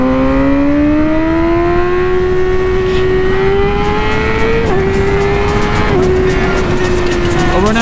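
Motorcycle engine at speed on an open road, holding a loud steady roar with pitch that climbs gradually, then dips briefly twice as if shifting or easing off, constant and close throughout.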